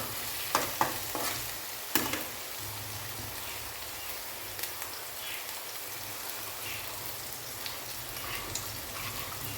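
Fish curry seasoned with coriander powder frying in a pan, a steady soft sizzle throughout with a few sharp clinks and scrapes of stirring near the start.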